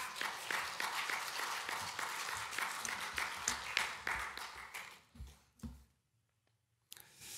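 A church congregation at a Korean early-morning prayer service claps together in a dense, steady burst for several seconds, then fades into near silence before a faint sound returns.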